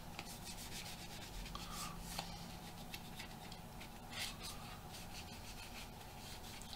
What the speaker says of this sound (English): literally, we just go along and wipe it off